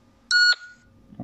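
A metal detector beeps in a smartphone metal-detecting game: a single loud, tonal electronic beep lasting about a quarter second, standing alone against a quiet background.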